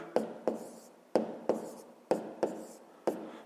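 Chalk or marker strikes writing numbers for a fifth-grade multiplication exercise on a board; seven sharp, separate taps in an irregular rhythm, close and clear, with no talking.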